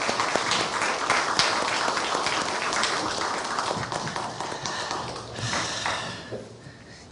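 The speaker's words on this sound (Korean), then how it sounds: "우리 성가대 다시 한번 박수로 격려하겠습니다." A church congregation applauds the choir during a Sunday service at a university church, with sustained, fairly loud clapping that fills the room and fades slightly toward the end.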